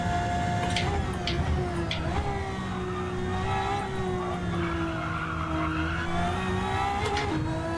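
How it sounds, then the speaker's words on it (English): Race car in Gran Turismo 7 with tyres squealing and crying through a corner, a steady high whine over continuous engine drone, loud and close throughout. "Yep, hear those tyres now."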